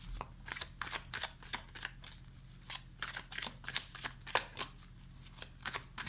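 Tarot cards being shuffled: a steady run of crisp riffling bursts, close and fairly loud, with no voices over it.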